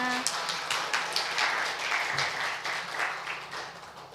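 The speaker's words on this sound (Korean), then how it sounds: "인사하실 때 큰 박수 부탁드립니다." Congregation applause during a church Sabbath school service, soft, fairly distant clapping from a modest group, uneven and loose in rhythm with a few brief voices mixed in.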